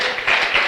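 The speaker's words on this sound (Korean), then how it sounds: "이 대목에서 박수 쳐셔야 돼요." A short, dense burst of audience clapping from a lecture crowd, steady and fairly loud, with no talk over it.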